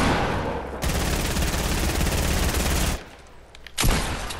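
Gunfire in the Fortnite video game, including shotgun fire, arrives as a loud, dense burst lasting about two seconds, then a short lull and another sharp volley.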